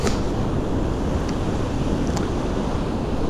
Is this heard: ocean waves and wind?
yes